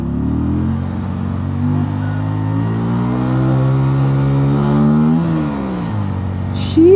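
Car engine revving and rising in pitch, loud and close, surging up and down for several seconds with no talk over it.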